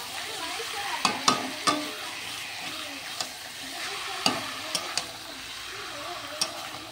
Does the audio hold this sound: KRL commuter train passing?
no